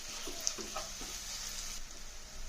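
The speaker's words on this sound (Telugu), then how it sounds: "ఇప్పుడు దీనిలో ఇలా వేగిన దాంట్లో అల్లం వెల్లుల్లి వేసాం ఇది కూడా లైట్ బ్రౌన్ కలర్ వచ్చిన దాకా వేయించడం" Ginger and garlic fry in hot oil for a prawn fry, giving a soft, steady sizzle with faint stirring clinks close by.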